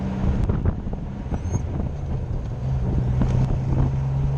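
Steady wind rumbles and buffets across the microphone, a low roaring gust with faint background noise throughout.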